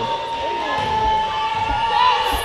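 Crowd in a college basketball arena cheering and shouting after a made shot, a sustained roar with a whistle tone over it and faint thuds underneath.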